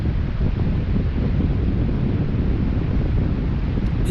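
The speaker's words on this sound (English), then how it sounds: "You can definitely hear the wind picking up now." Wind rushes past the microphone outdoors on a fishing trip, a loud, steady, full rumble with no break and no voices.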